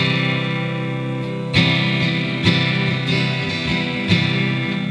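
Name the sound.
gentle guitar strum for a song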